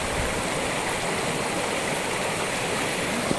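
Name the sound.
mountain stream and waterfall on a trek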